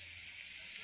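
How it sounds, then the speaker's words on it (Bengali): Onion fries in a pan with a brief, even, hissing sizzle and no other sounds. "এভাবে ভাজতে ভাজতে যত সময় না পেঁয়াজটা নরম হয় তত সময় মতো ভাজতে থাকবো।"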